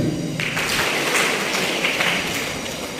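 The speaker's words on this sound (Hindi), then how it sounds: "तो अपने लिए एक बार आप लोग ताली बजाएं।" Students in an audience clap together in a hall, a dense, steady patter of many hands that holds at an even level for a few seconds and fades slightly at the end.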